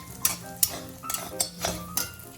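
Beaten eggs are stirred into butter and oil in a pan, with a utensil scraping and clinking against the metal in several separate strokes over a faint sizzle.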